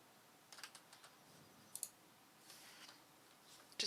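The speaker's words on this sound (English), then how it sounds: "I'm doing this just on my keyboard." Computer keyboard keys click faintly in a quiet room, a few scattered single presses and short pairs rather than continuous typing.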